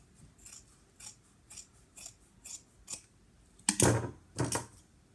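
Scissors clipping fabric while sewing a small wallet, a series of crisp evenly spaced snips followed by two louder, longer cuts close by.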